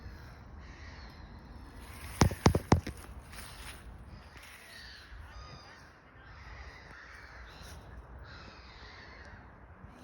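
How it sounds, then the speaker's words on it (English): Crows caw in a winter woodland, a quick cluster of sharp, loud calls near the start, then fainter bird calls and soft rustling steps continue in the background. "Birds are making a lot of noise."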